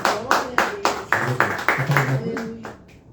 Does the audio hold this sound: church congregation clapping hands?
yes